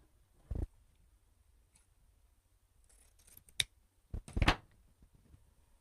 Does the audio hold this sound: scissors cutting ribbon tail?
yes